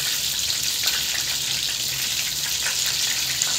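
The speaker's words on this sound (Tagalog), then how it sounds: "Para ma-prito na rin natin yung mga susunod pa hanggang sa maubos." Steady, dense sizzling of chicken breast frying in hot oil, continuous and close with no talking.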